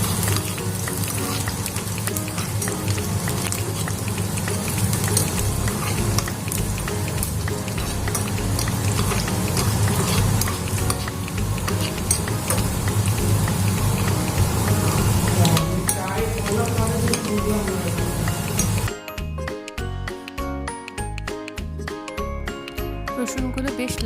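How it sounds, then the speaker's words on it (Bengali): Garlic cloves frying in oil in a pan, stirred with a spoon: a steady, loud sizzle runs throughout with clinks of the spoon, shifting to a choppier, gappy texture near the end. "একটা চামচ দিয়ে ভালো করে নাড়িয়ে নিচ্ছি। রসুনগুলো যখন হালকা লালচে লালচে হয়ে উঠবে তখন আমি এটাকে নামিয়ে দেবো।"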